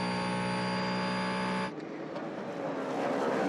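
Endurance race cars at the São Paulo WEC six-hour race: a loud, steady high-revving engine tone cuts off abruptly as a car passes, leaving a rougher, wider roar of further cars through the remaining seconds.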